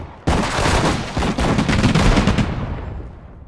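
Loud infantry gunfire in the war video game Allied Campaign with US Army troops: a sudden, sustained, rattling volley of mixed rifle and machine gun shots that tapers away toward the end.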